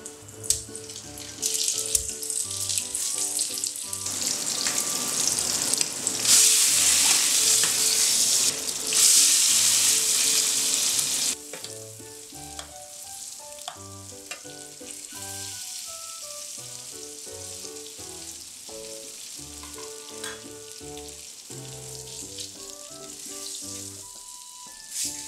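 Sausage made from salmon bone scraps cooks in butter in a pan with a loud, hissing sizzle. The sizzle drops away sharply partway through, leaving quieter kitchen sounds and a background tune.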